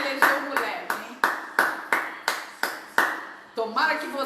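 Rhythmic, evenly spaced hand claps, about a dozen sharp strikes in a steady beat, fairly close and loud, called for as applause during a live online stream; no speech over them.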